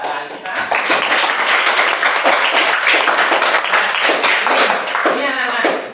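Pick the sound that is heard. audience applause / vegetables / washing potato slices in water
audience applause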